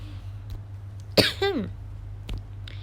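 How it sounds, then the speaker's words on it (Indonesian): A single sharp, close cough followed by a shorter rasping throat sound, over a steady low electrical hum. "Batuk ya"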